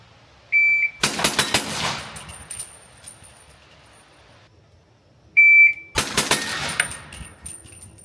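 A 338 ARC rifle fires subsonic rounds in two separate bursts of rapid cracks, each preceded by a short electronic beep, with clanking and fading echoes between them and quiet gaps before and after.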